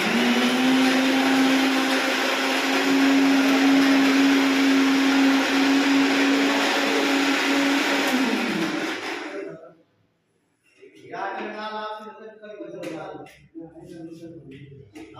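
An electric mixer grinder runs at a village temple where food is being prepared for pilgrims, giving a loud, steady whirring whine for about nine seconds before it cuts off, followed by people talking.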